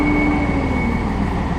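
Train pulling into Shrewsbury station, a loud steady rumble and drone with a sustained high whine held throughout, close by and without speech.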